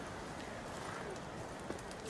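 Horse hooves clip-clop in The Witcher 3, a soft rhythmic plodding under a dense background wash, with speech-like murmur mixed in and one brief louder knock near the end.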